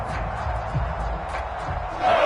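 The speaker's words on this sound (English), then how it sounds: "That just means this crowd's going to get even louder." Stadium crowd at a college football game on third down, a sustained roar that swells louder toward the end.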